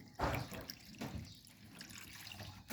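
Water poured into the cooling system of a Hyundai Starex van after a top overhaul, a soft splashing, gurgling flow that is faint and uneven.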